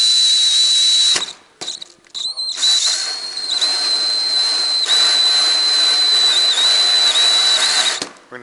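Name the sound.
hole saw drilling through freezer lid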